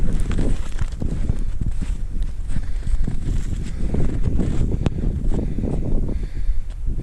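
Wind whips snow off the tops of open rises in winter, making a constant gusty roar that buffets the microphone, with scattered soft crunching under the rush.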